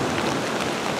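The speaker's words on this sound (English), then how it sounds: "So it's pouring, I decided to come out with my camera." Heavy rain pouring outside an off-grid cabin, a dense even hiss of falling water filling the whole moment without a break, close and steady with no voices.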